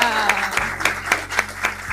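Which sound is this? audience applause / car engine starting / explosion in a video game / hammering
audience applause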